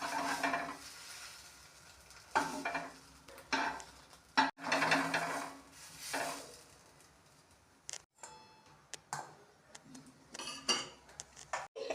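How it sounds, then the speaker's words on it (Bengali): Chitoi pitha rice cakes cooking one after another in a pan, with intermittent bursts of sizzling and scraping separated by quieter gaps and a few sharp clinks of utensils. "এক এক করে সব পিঠেগুলো ভেজে নিচ্ছি আমি একই প্রসেসে"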